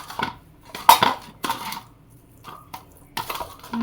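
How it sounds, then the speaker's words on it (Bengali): Fish being mixed with spices, salt and turmeric in a bowl: a series of sharp metallic clinks and clatters of the bowl and utensils in uneven bursts, close and fairly loud, with no talking. "মশলা দিয়ে মাছটা খুব ভালো মতো মেখে নিব।"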